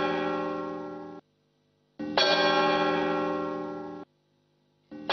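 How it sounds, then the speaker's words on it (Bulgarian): A village church bell ringing in slow, loud strokes, each rich metallic clang sustaining and fading before the next, with about three strikes and near-silent gaps between. "камбаната била цяла седмица без да спре"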